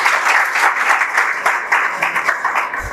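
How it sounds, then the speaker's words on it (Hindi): Students at an NDA exam coaching session give loud, sustained applause, a dense, even patter of many hands clapping indoors for a few seconds. "एक बार जोरदार ताली हो जाए"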